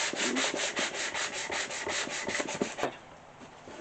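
Hand sanding of thin wood with a medium-grit sanding block, working along the grain, gives steady rhythmic back-and-forth rasping strokes, close and fairly loud, with no talk.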